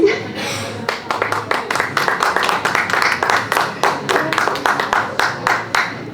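A conference audience claps for a speaker, a burst of brisk, close applause that settles into steady rhythmic clapping, with voices faintly underneath.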